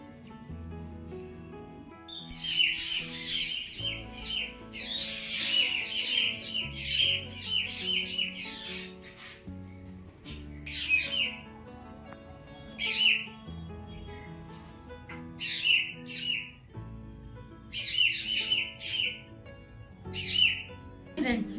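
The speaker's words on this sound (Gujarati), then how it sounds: "દેશી ચકલી ને ચકો જે બોલે ને તો મને સાંભળવું બહુ જ ગમે" House sparrows chirp in quick, bright bursts with short pauses between, fairly close, over a faint low background hum.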